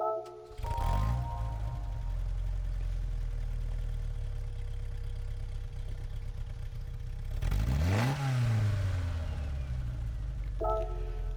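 A 1972 Alpine A110 in Gran Turismo 7 starts with a crank and fires into a steady idle. A sharp rev swells and falls back midway, then the engine idles on.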